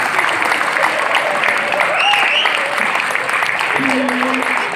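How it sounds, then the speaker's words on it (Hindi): Audience clapping at a Hindi kavi sammelan comedy poetry recital, a dense steady wash of hands from a sizeable crowd, loud and sustained throughout with a brief tonal squeal near the end. "तालियां बजाओ एक बार भाई"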